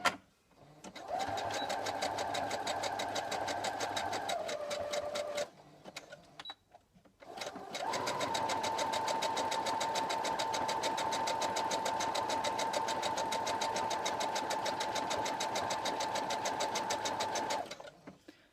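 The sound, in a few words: sewing machine sewing a zigzag stitch on fabric scraps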